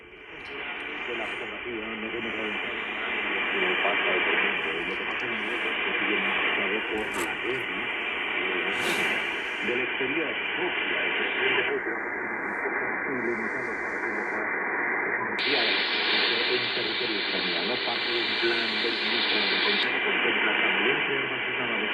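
A radio receiver hisses with steady broadband static, its tone shifting in abrupt steps as signals come and go.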